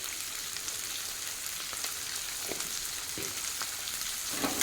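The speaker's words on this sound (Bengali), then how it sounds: "মটরশুঁটিটাও একটু চিংড়ি মাছের সঙ্গে ভেজে নেব।" Green peas and shrimp frying together in a pan, a steady close sizzle with soft crackles and a few light stirring knocks throughout.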